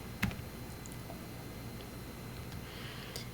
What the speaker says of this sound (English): I am typing it out real time.